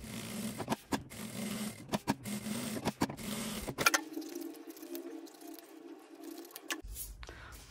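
A domestic sewing machine stitches two fabric panels placed right sides together for a men's lunch-box bag. Rapid clattering mechanical bursts give way to a steady, close motor drone that runs alone for several seconds before stopping.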